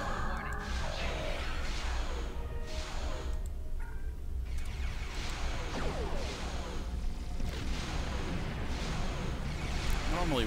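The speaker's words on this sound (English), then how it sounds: "Unfortunately, our big torpedo just bounced off their shields." Starship combat in the Star Trek Online video game, with dense layered booming torpedo fire and rumbling explosions continuing throughout and someone talking over the battle.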